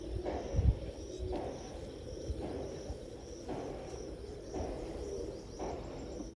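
A pigeon coos softly and repeatedly in low, rolling calls, close by, with a quiet background.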